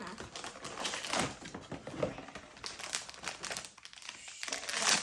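Plastic packaging of a Pop Mart blind box being torn and opened up close, with quick crinkling, rustling and tapping in irregular bursts.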